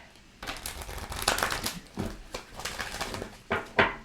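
Tarot cards being shuffled by hand, several soft riffling and crinkling bursts at close range, fairly quiet with uneven pauses between them.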